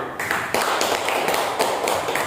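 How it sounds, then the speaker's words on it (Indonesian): A classroom group applauds a student team after its presentation, a brief burst of fairly loud, even clapping that fills the room with no talk. "ya kita kasih aplaus kembali kepada kelompok Salam"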